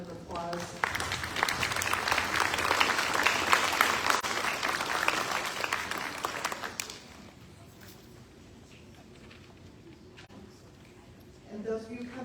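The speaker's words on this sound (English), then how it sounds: "grandparents, and friends a big round of applause." Applause at a school district Student of the Month ceremony, as an indoor audience of parents, grandparents and friends claps loudly for about seven seconds before it fades to quiet room tone, and a voice starts speaking at the end.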